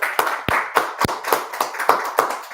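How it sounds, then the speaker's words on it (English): A small group claps together at a Harlem street gathering of the Israelite School of Universal Practical Knowledge, sharp uneven hand claps arriving in a loose rhythm, close and fairly loud with no talk over them. "clap it up"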